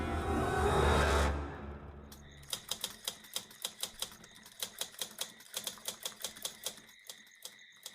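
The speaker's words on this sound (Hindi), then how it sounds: "टाइपराइटर की बटन दबने की आवाज सुनाई दे रही थी।" Rapid typewriter keystrokes clatter in an uneven rhythm, close and crisp, after a brief rushing swell at the start, with a bell-like ding near the end.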